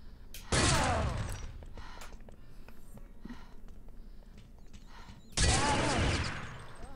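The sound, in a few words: SR8 sniper rifle shots in a video game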